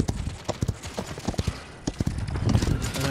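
Horse hooves clip-clop in the PC video game Paladins, a rapid, loud galloping rhythm of hard knocks with game effects underneath.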